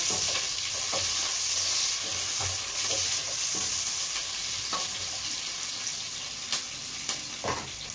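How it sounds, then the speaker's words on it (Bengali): Ingredients lightly frying in a little oil, a continuous soft sizzle with scattered spoon taps and stirring scrapes throughout. "এগুলি সব একটু হালকা তেলে একটু ভেজে নেব"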